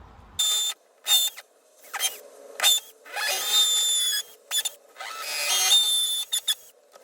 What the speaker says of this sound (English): I need to get my drill.